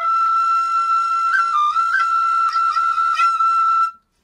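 A tin whistle holds a bright, steady high note while the player rolls an R to flutter-tongue it. The pitch shifts slightly a few times, and the note plays alone and loud for about four seconds before it stops abruptly.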